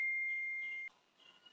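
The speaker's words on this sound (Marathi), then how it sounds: "घे फेसबुक नोटिफिकेशन" Phone notification beep for a Facebook alert: a single sustained electronic tone that holds clearly and cuts off abruptly, followed by faint, quiet background sound, alone and close.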